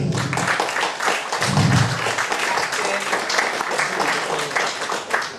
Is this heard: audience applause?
yes